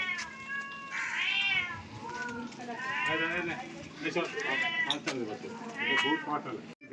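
Several hungry cats meow repeatedly and insistently while being fed, their rising, drawn-out cries close and loud over a constant background of people talking.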